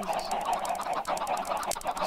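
Chickens in Minecraft cluck in quick, repeated bursts over a dense, busy game background, close and fairly loud, with no voices over them.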